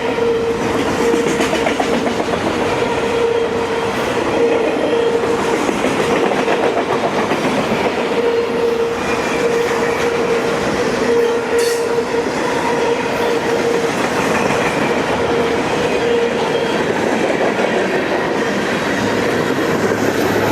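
Freight train with DPU locomotives rolling past steadily for the whole stretch, loud and near, with continuous wheel rumble, clickety-clack over rail joints and a sustained tonal hum; no talking.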